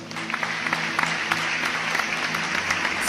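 Church congregation applauds steadily at full strength, a dense wash of many hands clapping, with a sustained musical tone underneath.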